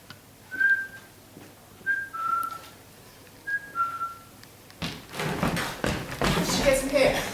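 Three short whistled notes repeat at a steady pace, each a quick rising pair, before rustling and movement noises take over toward the end.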